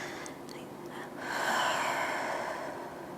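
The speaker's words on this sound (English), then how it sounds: "breathing in and out." Person breathing in and out slowly while holding a glute stretch, a soft, close airy inhale and exhale with no talk.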